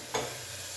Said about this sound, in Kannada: ಚಮಚ ತಗೊಂಡು ಏನು ಚಮಚ ತಗೊಂಡು ಅಲ್ಲಾಡ್ಸೋದು